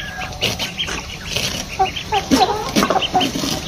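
Young ducks call with repeated short peeping and quacking chirps while being fed corn, the calls close and busy over rustling background noise.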